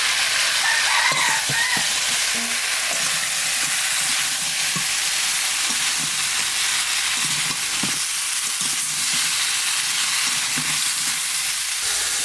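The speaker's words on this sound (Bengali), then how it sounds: "এখানে কাঁকড়া মাছ দিয়ে দেবো।" Crab pieces fry with spices in a hot pan, giving a constant loud sizzle close by, broken by soft clinks and stirring knocks, with faint bird calls in the background.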